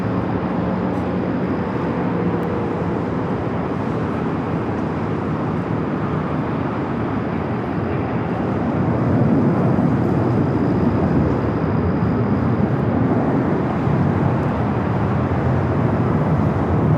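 An Airbus A350 airliner arrives on the north side at LAX on a busy Friday night, a steady, broad jet roar that holds throughout and swells slightly toward the end, with no talking.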